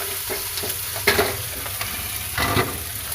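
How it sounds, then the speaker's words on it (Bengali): A masala of turmeric and red chili paste fries in a pan, producing a soft, steady sizzle with several brief stirring scrapes, heard close and without any talk. "মশলাটা ভালো করে নাড়িয়ে ভেজে নিয়েছি।"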